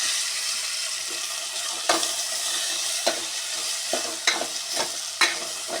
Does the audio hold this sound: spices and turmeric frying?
yes